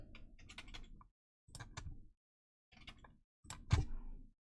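Fingers clatter on a computer keyboard in four short bursts of typing with silent gaps between them. The keystrokes are close and crisp, and the last burst is the loudest.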